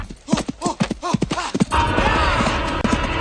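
Movie horse hooves pound the ground in a quick, rhythmic gallop close by, then give way to a rushing, noisy wash of sound.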